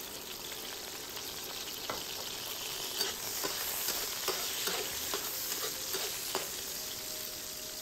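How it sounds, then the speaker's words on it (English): Garlic slices, scallions and red chili stir-fried in hot oil for a lamb leg dish, giving a steady close sizzle and crackle with scattered scraping clicks of a utensil against the pan, with no voices. "Stir-fry garlic slices, scallions, and red chili pepper."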